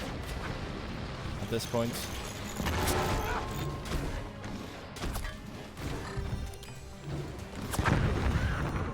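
Weapon shots firing and impacting in the physics-based fort battle game Forts, a busy stream of cracks, thuds and crashing hits layered under a speaking voice.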